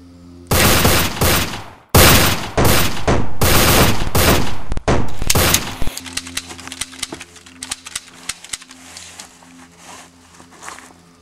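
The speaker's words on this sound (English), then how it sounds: "That is how you fire a gun." Gunfire crashes out in loud, close, rapid bursts for several seconds, followed by a scatter of lighter pops and clicks as it trails off.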